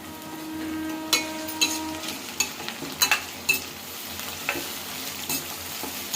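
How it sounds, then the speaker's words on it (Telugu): Peanuts fry in hot oil for upma, a steady sizzle with scattered sharp crackles and scraping stirs close by, no voices. "ఇప్పుడు ఆయిల్ పోసుకొని మొత్తం వేగించేస్తానండి."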